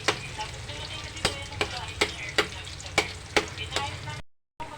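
Food sizzles and fries steadily in a pan while a utensil stirs it, with about eight sharp scraping strokes at a regular pace, close up, ending in a brief silence.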